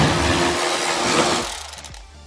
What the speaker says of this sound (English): I'm gonna grab our 8mm on our 1/4-inch electric Milwaukee ratchet.